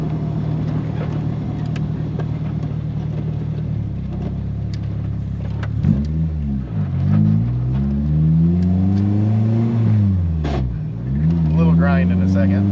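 A K-swapped Honda Del Sol engine idles loudly up close, then revs up and down several times, the pitch rising and falling with each throttle blip.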